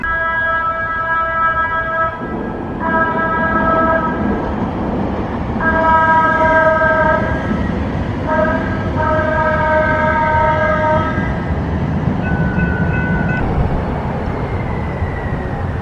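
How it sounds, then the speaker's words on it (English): A trolley train passes close by in La Mesa with repeated loud horn blasts in several bursts over steady rumbling wheels on the rails. "The trolley has returned."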